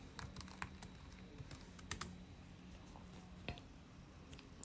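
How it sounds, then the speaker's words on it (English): Soft, quick taps on a computer keyboard in bursts of keystrokes with short pauses, fairly faint and close, with a low hum underneath. "I'm going to type in my things"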